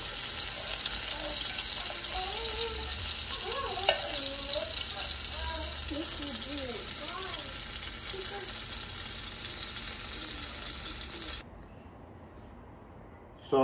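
Rocky Mountain oysters fry in bacon grease, giving a steady dense sizzle at close range. A voice talks faintly underneath, and the frying drops away near the end.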